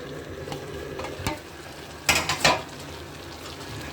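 Gourd greens sautéing with fish in a pan, a soft steady sizzle with a few sharper scrapes and stirring clatters of a spoon, the loudest cluster coming near the end.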